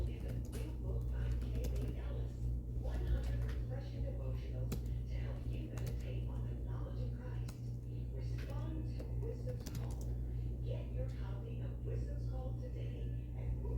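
Keystrokes on a computer keyboard, a soft steady clatter of typing running under a low constant hum, with a voice occasionally speaking nearby.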